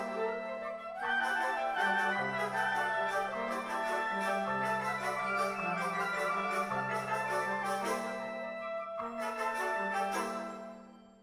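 Orchestral music from the one-act ballet Bells of Paradise by Eduard de Boer, depicting joyful bells. Sustained tonal chords carry bright chiming upper notes, swelling after a soft start and fading away at the end.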